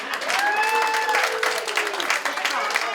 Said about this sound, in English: Give a round of applause, all of you, for being here